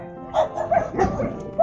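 Dogs at a large dog shelter bark in a quick cluster of several close, loud yaps and woofs, with a faint voice underneath.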